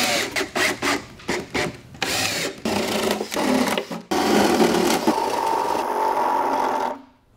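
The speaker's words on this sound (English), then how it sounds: "we're gonna drill some drainage holes in here so the moisture has somewhere to go" A drill bores drainage holes into the wooden bottom of a DIY planter box, several short whirring bursts followed by a longer grinding run that cuts off abruptly, close and loud.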